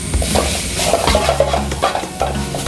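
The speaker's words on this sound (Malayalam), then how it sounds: "നമ്മളിതിലേക്ക് സോയാ സോസ് ഒഴിച്ച് കൊടുക്കുകയാണ്." Hotel-style chicken noodles sizzle loudly in a hot pan as soy sauce goes in, with steady frying hiss and the scrape of a spatula stirring, close up and with no voices.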